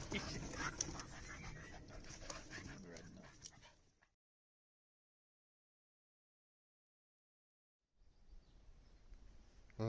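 A dog jumping about on a canal towpath beside a narrowboat, panting and whimpering with small yips in busy bursts, then a long silent gap before faint movement returns.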